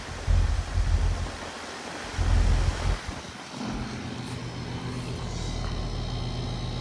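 A 2024 Goodman GSZB4 1.5-ton, 14 SEER heat pump with a rotary compressor starting up in cool mode outdoors, heavy low rumbling surges at first, then settling into a steady, close, continuous hum with a fan whoosh.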